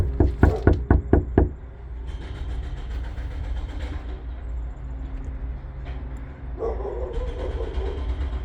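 Six sharp knocks on a door during a property inspection at a Salt Lake City apartment, loud and close in a quick run, followed by low outdoor background hum and a few faint distant sounds.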